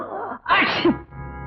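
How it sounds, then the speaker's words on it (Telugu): A man gives one loud, close sneeze with a sharp intake and burst, set between quiet stretches of room tone. "నిమిషానికి ఒక తుమ్ము తప్పును తుమ్ముతున్నారు నిన్నటి నుంచి."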